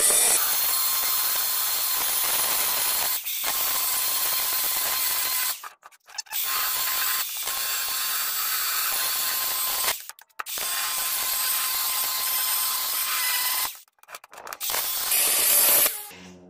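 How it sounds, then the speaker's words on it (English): An angle grinder with a cutting disc slices through an old fluorescent light ballast being scrapped, a loud, continuous high whine held for several seconds at a time and broken by short pauses, close up with no talking. "with a cutting disc and just cut through there."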